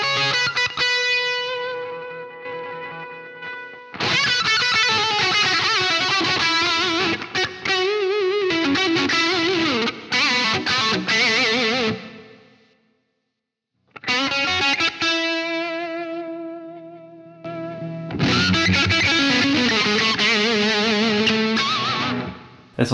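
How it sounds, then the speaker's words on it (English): An electric guitar runs through the STL Tones Tonality plugin's overdrive boost pedal, producing gritty, saturated chords and riffs in several loud bursts separated by short silences, with no voice. "This one seems a bit more like a distortion pedal, and this is the overdrive boost pedal."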